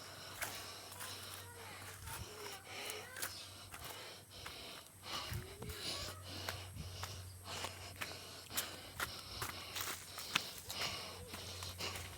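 Hard, rapid panting from a hiker climbing a mountain trail, with wheezy gasps and sniffs close to the mic and scattered footsteps crunching beneath the breathing.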